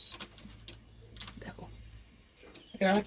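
Madras pigeons coo in a short, loud burst near the end, with quieter rustling and faint background sounds before it.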